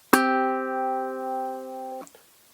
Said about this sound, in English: So a fifth sounds like this.